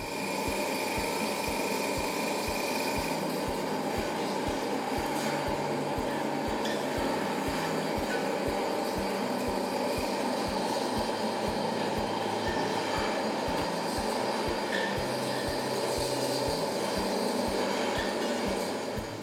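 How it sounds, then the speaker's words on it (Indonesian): A grinding machine mills dried oyster mushrooms into flour, a loud continuous mechanical whir and rattle with a steady rhythmic pulse that runs unbroken throughout. "Lalu kemudian kita akan giling."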